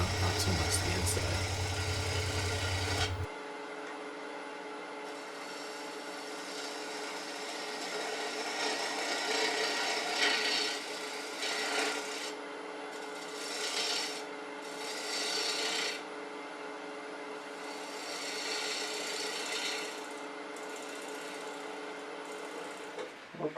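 Half-inch spindle gouge ground at about 40 degrees shaving the outside of a bark-rimmed wooden bowl on a lathe: a steady close rasping hiss over the motor's hum, swelling and easing as the cut is reapplied.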